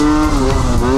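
Motorbike engine fitted with a Stage 6 overrange kit, over-revving and struggling around 55 for want of heavier rollers: a loud, close, sustained high-pitched whine held steady at high revs with no break through the second.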